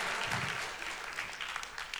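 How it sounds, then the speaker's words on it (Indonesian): A church congregation gives a short burst of clapping during a pastor's sermon, a dense and fairly steady patter lasting about two seconds. "Tepuk tangan lah Bu"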